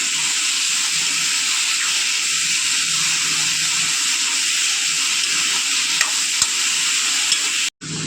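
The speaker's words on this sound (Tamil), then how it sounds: "பூண்டு போட்டு வதக்கணும் தக்காளி நல்லா குழைய வரணும்" Garlic and tomatoes sautéing in a pan, a loud steady sizzle close by throughout, with faint stirring scrapes and a brief drop near the end.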